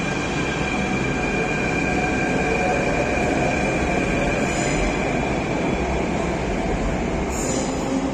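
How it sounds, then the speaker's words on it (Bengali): Jaipur Metro train at a station platform, a loud steady rumble of rolling wheels and motors with faint high squeals, close and sustained without break. "দূর থেকে যে ট্রেনটা আসছে এখান থেকে সেটা দেখা যাচ্ছে"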